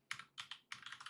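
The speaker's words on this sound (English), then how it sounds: "Let me type in gold." Quick typing on a computer keyboard during a live market-prep stream, three short bursts of clustered key clicks with brief pauses, close and fairly quiet with no voice.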